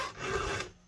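A single close rasping stroke of a hand file across a chainsaw chain's cutter, short and scraping, with no voices.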